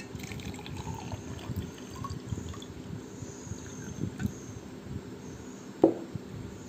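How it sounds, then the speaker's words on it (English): Water being poured into a container, a soft continuous trickling and splashing with a low background hum. "put some water into it"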